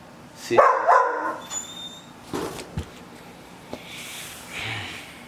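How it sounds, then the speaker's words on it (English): A dog barks in a few sharp bursts near the start, then yips and snorts intermittently at moderate distance, with quieter stretches between. "this dog is annoying"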